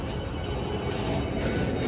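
Steady, loud broadband rumble of a passing train, continuous throughout the short moment with no clear voices.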